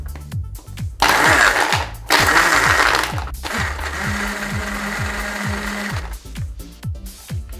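Ice cubes are shaken hard in a cocktail shaker while mixing a Beefeater pink gin tonic, giving rapid rhythmic rattling bursts, loud and close, with a pause in between and no talking.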